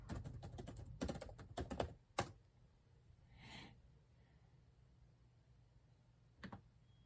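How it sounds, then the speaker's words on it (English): Close computer keyboard typing comes in quick bursts of key taps during the first two seconds, followed by quiet, a soft breath and one last brief tap. "Sorry, I want to type this differently."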